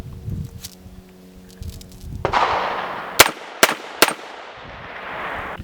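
CMMG Banshee MK10 pistol in 10mm firing outdoors: three sharp, loud gunshots in quick succession, each with a short echoing tail, after quieter handling noise and a rising rush of wind or background noise.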